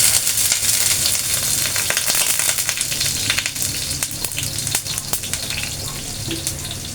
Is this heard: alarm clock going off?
no